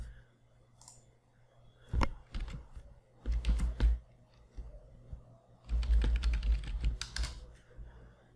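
A host name is typed on a computer keyboard in short bursts of clicky keystrokes separated by pauses, close and clear, with a low steady hum underneath.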